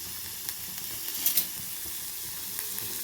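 Ridge gourd pieces frying in a pan, a steady soft sizzle close by with occasional light clicks and stirring taps, no voices.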